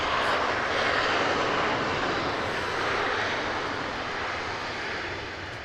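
An airliner rolls down a runway at Manchester Airport after landing, its engines a loud, sustained roar heard from nearby that eases off slightly toward the end, with no talking.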